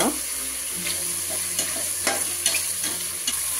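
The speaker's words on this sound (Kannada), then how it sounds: "ಟೊಮೊಟೊ ಪೇಸ್ಟ್ನ ಹಾಕ್ಕೊತಾ ಇದ್ದೀನಿ. ನೋಡಿ, ಇವಾಗ ಇದು ಫ್ರೈ ಆಗಿದೆ." Tomato paste frying in a pan for mushroom biryani, giving a steady close sizzle with faint stirring scrapes and light clinks throughout, with no talking.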